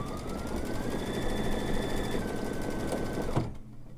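A Brother embroidery machine stitches an outline in a steady, rapid mechanical whir with a faint rising whine, stopping abruptly near the end.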